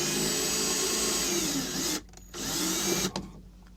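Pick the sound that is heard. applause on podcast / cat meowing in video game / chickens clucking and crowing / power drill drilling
power drill drilling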